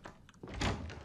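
Door opening in the video game Resident Evil 7, a short muffled thunk followed by a brief heavier knock, close and fairly quiet.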